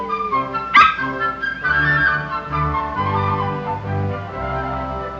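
A dog yips, whimpers and gives a sharp bark during play in an outdoor scene, close and fairly loud, followed by drawn-out whining with a faint musical background.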